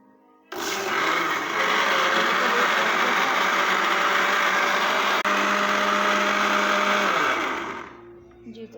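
An electric blender with a steel jug switches on and runs at a loud, steady whir for about seven seconds, then spins down and stops.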